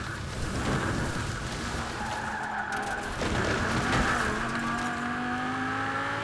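The Null car, a Ford-based machine in Forza Horizon, drives fast with a steady, loud engine roar and tire skidding throughout, the pitch rising and falling as it goes. No one speaks.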